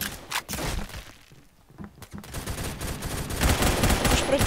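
Gunfire in the Roblox shooter Phantom Forces, with dense rapid bursts of automatic shots that thin out briefly and then build back up loud and sustained.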